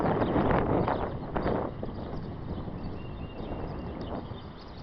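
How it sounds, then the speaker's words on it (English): Heavy wind buffeting the microphone, a loud rough broadband roar that surges at the start and then settles into a steady, slightly fluttering rumble. "Here it is. The heavy wind."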